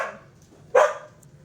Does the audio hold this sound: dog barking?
yes